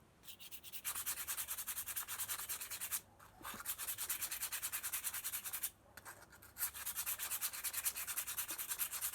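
Rhythmic back-and-forth scratching of fine-grit sandpaper on a ceramic piece, close up, in three runs broken by two short pauses.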